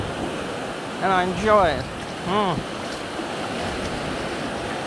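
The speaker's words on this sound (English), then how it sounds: "Listen to the sound of the ocean." Ocean waves wash steadily onto a beach as a constant broadband surf roar, while someone speaks briefly over it.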